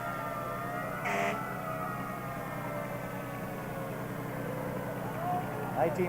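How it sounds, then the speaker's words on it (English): An antique fire engine in a town anniversary parade, its siren a steady, fairly faint drone under outdoor crowd noise, with a brief brighter burst near the start and short louder sounds at the end. "This next fire engine is from Middleton."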